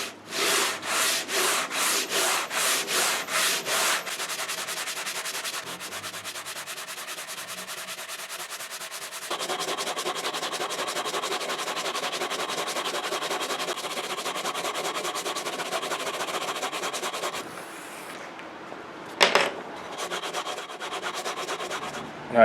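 Hand sanding a guitar bass fretboard with 80 grit sandpaper: quick, evenly spaced rasping strokes at first, then a steady, close scratchy rubbing that runs on before a few brief scrapes near the end.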